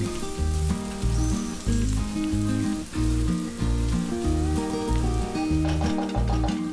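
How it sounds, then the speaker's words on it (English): Chopped garlic and ginger frying in hot oil in a pan, sizzling steadily under loud backing music. "in a hot pan, add oil. Add 5 garlic cloves chopped, 2-inch ginger chopped, and fry it until the ginger garlic is nice and golden brown"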